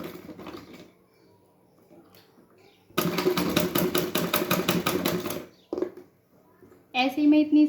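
Sewing machine stitching a blouse sleeve, driven by a foot pedal, running in a fast even burst of rapid mechanical clatter for a few seconds, then a short second run, close by, with someone speaking before and after.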